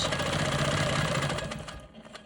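A sewing machine stitches diagonal quilting lines edge to edge across quilt sashing, its steady mechanical hum continuous and close for about two seconds before easing off.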